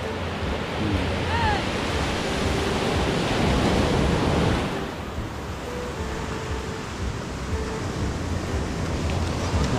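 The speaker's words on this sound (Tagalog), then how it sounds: "ang lakas ng alon tol, nabasa ako sobra" Strong sea waves crash and surge close by, a loud continuous roar of surf and spray that eases a little midway through, with wind buffeting the microphone.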